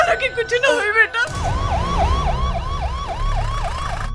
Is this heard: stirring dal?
no